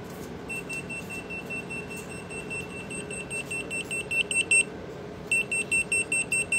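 A hidden camera detector gives rapid, high-pitched electronic beeps in quick bursts, growing more insistent as it detects a concealed camera in a room.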